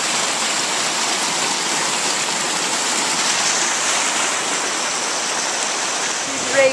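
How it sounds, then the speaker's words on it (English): The raging torrent of the Mud River rushes below a bridge as a loud, steady roar of churning water with no pauses. "Down below, the raging torrent, the Mud River."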